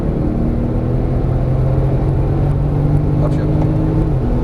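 Porsche Turbo S engine at full throttle on a track, a loud, steady, close droning roar that holds and climbs slightly before cutting off abruptly near the end.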